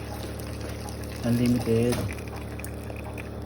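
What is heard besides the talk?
pouring broth into clam soup pot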